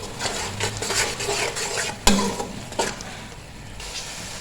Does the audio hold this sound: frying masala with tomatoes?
yes